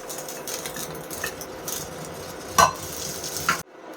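A spoon stirs powder into melted milk chocolate mixture in a pan, steady scraping and soft sizzling throughout with a couple of sharper clinks near the end, no talk.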